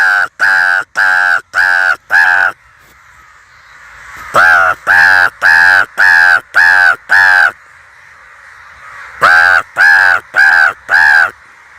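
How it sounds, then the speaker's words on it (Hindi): A large flock of crows, hundreds gathered in Jharkhand, caws in bursts of four to six harsh calls with pauses between, loud and close over a faint background hiss, with no talking. "पूरा यहाँ लगभग 500 से अधिक क्रो यहाँ पहुँच गए हमको बचाने के लिए।"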